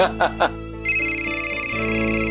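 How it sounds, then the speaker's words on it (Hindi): A phone ringtone starts partway through, a steady electronic tone following a few short sounds, continuing at moderate loudness. "तुम्हारा फोन है क्या?"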